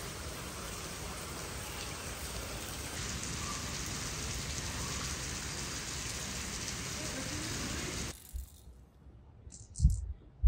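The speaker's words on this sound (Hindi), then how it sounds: "आप देख सकते हैं कितनी ज़बरदस्त बारिश हो रही है" Heavy rain pours steadily in a dense, loud hiss for about eight seconds, then stops abruptly, leaving near silence with a few faint knocks.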